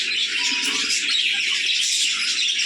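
Dense, continuous high-pitched chirping and twittering from many young budgerigars in a cage close by, a busy unbroken chatter with no talking.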